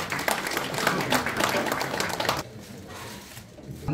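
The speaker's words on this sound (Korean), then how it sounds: "박수 부탁드리겠습니다." Audience applause at a Korean apartment residents' association awards ceremony and year-end gathering: a loud, dense burst of clapping that cuts off abruptly after about two and a half seconds, leaving a quieter room with lingering scattered claps.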